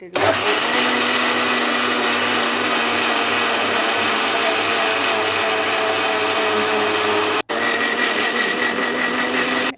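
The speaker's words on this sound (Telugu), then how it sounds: "మిక్సీ తిప్పేటప్పుడు చూడండి, ఫస్ట్ ఒకలాగా వస్తుంది సౌండ్" A mixer grinder jar churns cream into butter for ghee, a loud close whirring motor drone that holds steady, cuts out for an instant, then resumes.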